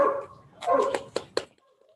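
A few dogs bark in short sharp bursts in a backyard gathering, with two or three distinct barks near the end following a stretch of mixed voices.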